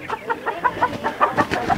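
A young hen clucks in a chicken laying area, a rapid run of short, close clucks in a quick uneven rhythm, with no talking.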